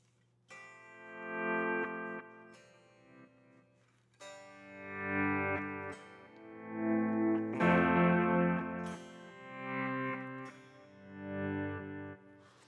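An electric guitar played through a Fractal FM3 MKII Turbo effects unit rings out in several sustained, distorted chords with long swelling decays, heard alone without talking.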